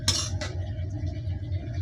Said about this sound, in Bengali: এই যে ঢাকনা দিয়ে ভাজিটা এখন ঢেকে দেব।